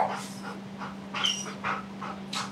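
A dog whimpers and pants behind a closed door, a series of short, close, high-pitched whines over a steady background hum.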